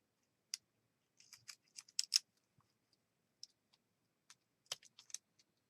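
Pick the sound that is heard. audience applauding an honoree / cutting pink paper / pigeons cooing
cutting pink paper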